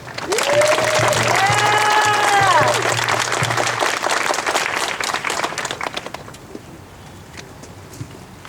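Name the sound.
applause for Supervisor Stefani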